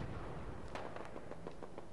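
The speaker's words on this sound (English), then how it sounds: "I hear gunshots." A rapid string of sharp, distant gunshot cracks in the video game Fallout 4, roughly a dozen in under two seconds, over a steady background rumble.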